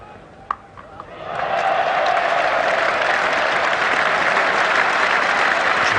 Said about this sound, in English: it's produced applause from both them, as well as from this very, very big crowd here at Lord's